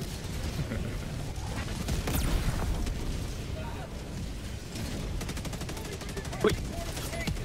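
Barrage strikes in Helldivers 2: dense rumbling explosions and rapid gunfire rolling on continuously from mid-distance, with voices talking over the battle noise.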